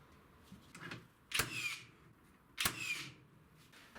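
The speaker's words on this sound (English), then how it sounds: "I used glue and nails to fasten the ends which join to the back panel." Nail gun driving nails to fasten the ends of 45-degree braces to a melamine back panel on a sheet-material storage rack, two sharp separate shots with short decaying rattles, close and alone.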